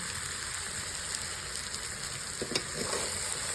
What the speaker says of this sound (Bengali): হালদারবাবু ওল তরকারি বানাচ্ছেন